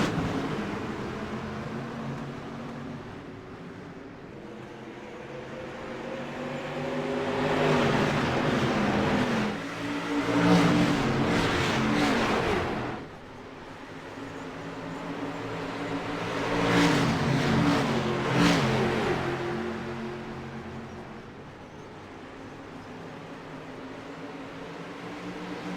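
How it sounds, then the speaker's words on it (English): Street stock race cars at Bristol roar past in waves, engines swelling loud as each pack flies by and then fading, over a constant background of track noise. "Listen to these cars as they fly by."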